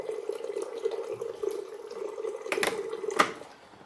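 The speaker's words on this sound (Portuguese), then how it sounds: "E aqui, apertando o botão, ele libera a água." A Consul water purifier dispenses water at the press of a button. A steady stream pours close by, with a couple of sharp clicks near the end before the flow tapers off.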